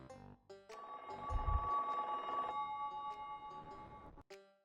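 A phone rings during a Banjo-Kazooie stream, played as a sound alert: a steady electronic tone with a buzzy ring that runs for about three seconds, bracketed by short blips and clicks, with no talk over it.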